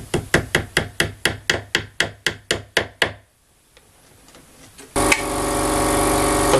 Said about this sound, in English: So we've got our tack hammer.